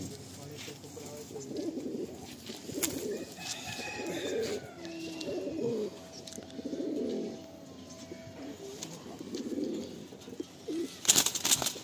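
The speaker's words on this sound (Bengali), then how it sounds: "এটা হলো নর পায়রা। সব হাই ফ্লায়ার পায়রা।" Kolkata old-line Giribaj high-flyer pigeons coo close by in repeated low, throbbing phrases at a steady rhythm, with a few faint chirps and brief clicks near the end.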